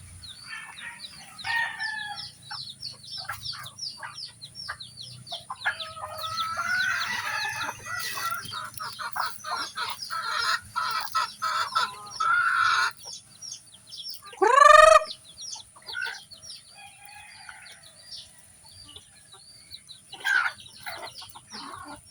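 A hen clucks while her chicks peep and cheep around her, with a rooster crowing loudly partway through; the birds sound close, and a faint voice speaks briefly.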